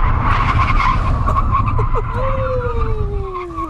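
A Rover 75 brakes hard in an emergency stop from 70 mph, its tyres skidding with a loud, close squeal that ends in one long, falling screech over road and engine noise.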